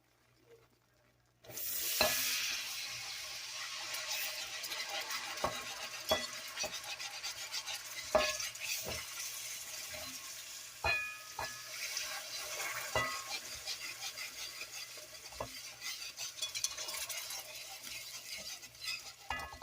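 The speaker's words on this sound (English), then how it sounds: "Now we'll start adding our apple juice." Liquid pours into a hot pan for a bourbon peach cobbler, starting after a short silence. A loud, sustained sizzle follows, broken by clinks and stirring knocks that last to the end.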